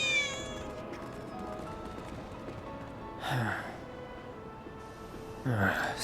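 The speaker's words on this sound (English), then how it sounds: "I swear I just heard a cat." Two clear cat meows in the video game Final Fantasy VII Remake, each a short drawn-out mew a couple of seconds apart, over a quiet ambient game backdrop.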